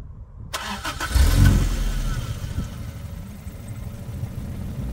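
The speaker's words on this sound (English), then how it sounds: "let's give the car a start and give it a few revs" A 1989 Toyota MR2 AW11 with a 4A-GE engine cranks briefly and catches, settling into a close, steady idle after a short starter whir.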